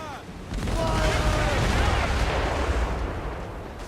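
Ship cannon fire in Assassin's Creed Rogue: a sustained, heavy booming rumble rolls out loud and close for several seconds, with a voice briefly over the start.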